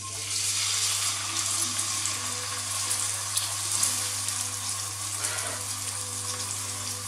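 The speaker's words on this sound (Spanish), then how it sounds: "Es básicamente dorarlo en ambos lados por un par de minutos." Salmon browns in plain olive oil, giving a steady, even sizzling hiss at close range with a constant low hum beneath and no talking.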